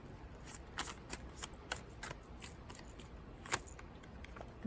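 Tarot cards riffled and shuffled close by during a reading, a rapid run of crisp flicks and snaps followed by sharper slaps as cards are drawn, with no one speaking.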